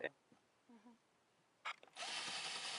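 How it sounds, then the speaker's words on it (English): A cordless power drill sold at Lidl whirs up into a continuous high buzzing run after a few faint clicks and brief bursts, fairly close in a home attic renovation. "One thing about these drills, they are the ones that they sell in Lidl."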